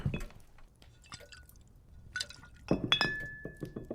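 A drink is poured into a glass, with a soft liquid trickle followed by several bright clinks and ringing taps of glass, close and quiet with no talk.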